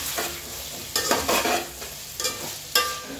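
Vegetables with ginger garlic paste cooking in a pan for veg kichidi, a soft steady sizzle broken by several close scraping stirs of a spoon against the pan, with no talking.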